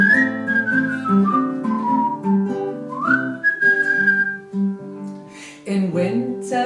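A person whistles a lilting Welsh folk tune for a song about a shepherd and his dog, clear sliding melodic phrases over soft sustained accompaniment, with short breaks between phrases.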